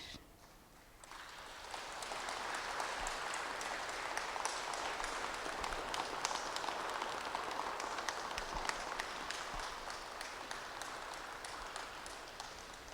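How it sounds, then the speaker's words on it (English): An audience applauds together at the close of a group meditation session at a Sushumna Kriya initiation in Sharjah, UAE; steady, dense clapping swells in after a quiet first second and holds evenly through to the end. "We all just clap for a minute."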